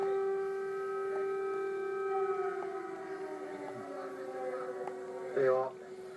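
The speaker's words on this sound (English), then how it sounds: "That's an air raid siren. Several of them going off here in the centre of the Ukrainian capital." Several air raid sirens wail together across central Kyiv, Ukraine, as a steady, distant drone that slowly falls in pitch, with faint talk and background noise underneath.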